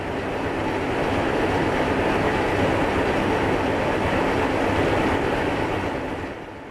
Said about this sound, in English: This 80-ton diesel locomotive, built in 1946 by H.K. Porter of Pittsburgh, Pennsylvania